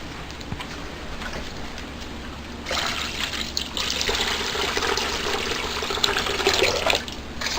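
Water pours for a litter of puppies, a steady trickling splash that grows fuller and louder partway through and keeps running without talk.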